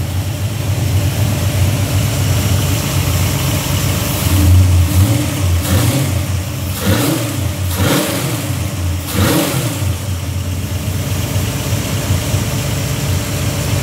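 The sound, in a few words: car engine with new camshaft revving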